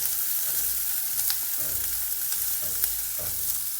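Chopped onion and curry leaves sauté in a hot pan for chicken sausage, with a steady close sizzle and a few stirring scrapes that come every second or so.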